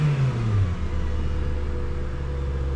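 A used car with its check engine light on idles and revs, a steady low mechanical rumble with a rising rev at the start, close and continuous with no talk over it.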